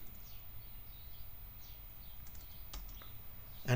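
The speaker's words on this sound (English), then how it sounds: "I'm going to type in something" A short burst of quiet keystrokes on a computer keyboard, faint and close, ending with a slightly louder click or bump.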